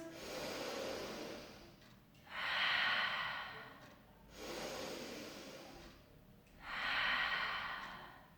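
Slow, deep breaths drawn in through the nose during an intermediate Pilates exercise, two long hissing inhales alternating with softer exhales, close and steady with no talking.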